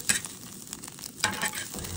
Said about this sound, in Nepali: अब चाहिँ मैले थोरै तेल लाएर अन्डा फ्राई गर्दै छु